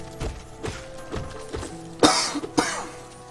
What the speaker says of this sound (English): Oh, I have this persistent cough.